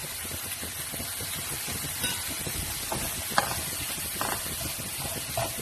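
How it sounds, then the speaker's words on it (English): Mushrooms sizzling in a pan over a slow flame: a steady, fairly loud crackling hiss throughout, with occasional sharper pops and light stirring clinks, no voices. "cook it on a slow flame so that the mushroom gets cooked easily and starts sweating"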